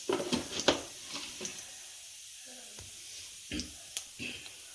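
A teaspoon of cumin seeds sizzles in hot oil for a goat liver fry, giving faint crackling with scattered sharp pops over a soft steady hiss.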